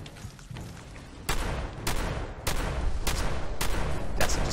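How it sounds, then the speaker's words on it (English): Gunfire in the video game Fallout 4, with loud sharp reports arriving at a steady rhythm, roughly one every half second to a second, over a constant bed of background noise. "Yes, just keep shooting."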